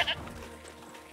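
A goat bleats briefly and loudly at the very start in the video game Jurassic World Evolution, part of the Malta DLC, then fades into a low steady game ambience.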